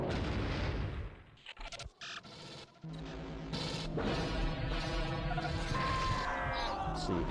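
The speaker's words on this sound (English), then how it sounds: "The shoulder cannon is pretty easy to get kills with" Predator shoulder cannon firing in the AVP Classic 2000 video game, a series of booming blasts and bursts with a dense, continuous game soundscape after a brief lull.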